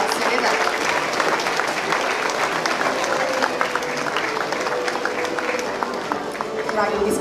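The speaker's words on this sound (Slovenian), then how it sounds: "Dragi, to si tudi zasluži aplavz, seveda" A school audience gives continuous, dense applause at an end-of-year school ceremony, loud and steady throughout with voices mixed in the crowd.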